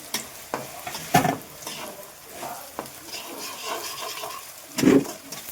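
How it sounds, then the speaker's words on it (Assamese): Ginger garlic paste fries in hot oil in a pan, a steady close sizzle broken by several scraping stirs, including a louder stir near the end, with no voices. "তেলত আমি আদা নহৰুৰ পেষ্টটো দি দিলোঁ। এই পেষ্টটো আমি ভালদৰে ফ্ৰাই কৰি ল'ম।"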